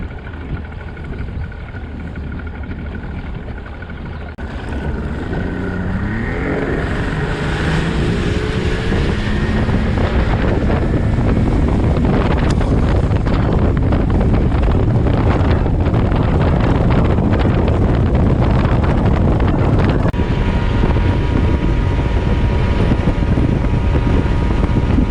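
A fishing boat's motor idles at low speed toward a bass fishing spot at sunrise, its steady drone partly buried under loud, continuous wind buffeting the microphone.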